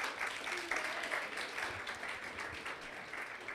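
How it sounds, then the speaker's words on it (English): A lecture audience at a comics event gives a warm round of applause, continuous dense clapping from many hands with a whoop or two, moderately loud and steady throughout. "Give a nice round of applause."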